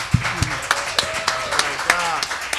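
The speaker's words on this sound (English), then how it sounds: "give him a big round of applause, audience, if you will" Audience applause at a blues jam, a steady wash of clapping with sharp individual claps standing out, with people talking over it.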